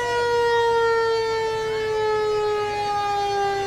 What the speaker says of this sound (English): Got a good siren on it.